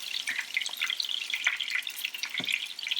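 Meatballs fry in hot oil with a steady, dense crackle and scattered sharp pops, close and continuous with no talking.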